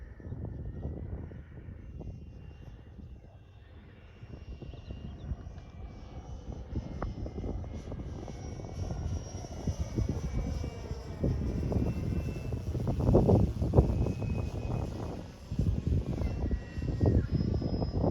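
Electric Seagull Westland Lysander scale model airplane, 12s power, flying at a model flying club field; a steady motor and propeller whine drifts at moderate distance, swelling louder around the middle, with faint wind noise throughout.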